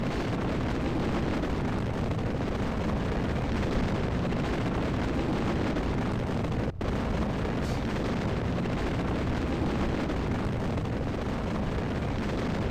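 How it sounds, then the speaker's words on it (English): The Bluebird rocket in Kerbal Space Program lifts off the pad with a loud, continuous roaring rumble that holds steady throughout, broken only by one brief dropout, with no talking. "Bluebird leaps off the pad so much more quickly than the other rockets"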